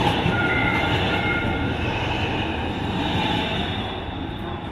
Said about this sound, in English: Gotta wait on the train.